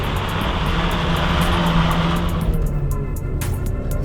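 A Ford Sierra Cosworth engine revving close by, in poor running condition: a loud, continuous rough roar with a buzzy drone that rises and then eases off.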